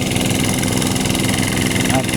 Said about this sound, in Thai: เป็นเครื่องยนต์สี่จังหวะ เป็นซินทั้งสองเครื่องนะครับ